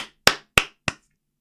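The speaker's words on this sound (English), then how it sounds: "He's just clapping." A tennis coach claps three times at an even pace, each clap sharp, close and loud against silence.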